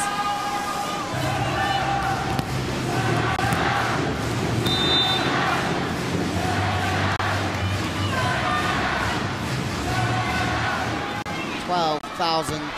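Thousands of Japanese fans bang handheld clappers in a packed volleyball arena during a Japan vs USA women's world championship match in 2018. The clatter is continuous, loud and dense, mixed with crowd roar and chanting.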